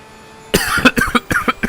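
A driver coughs several times in a burst of short, harsh, closely spaced coughs during a virtual sim race in a Porsche 992 at Monza, loud and close with no other voice.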